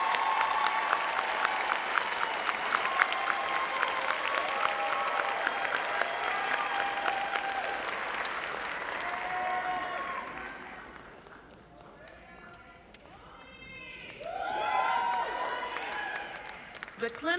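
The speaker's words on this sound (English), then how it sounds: "Now let's applaud everybody" A crowd applauds steadily at a nursing pinning ceremony with dense, sustained clapping, which fades before a second burst of clapping rises near the end.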